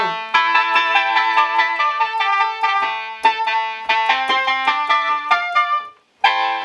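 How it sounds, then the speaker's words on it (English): A synthesized keyboard voice plucks a busy run of bright, twangy banjo-like notes in quick succession, briefly stopping before one last note. "So this obviously sounds exactly like a banjo."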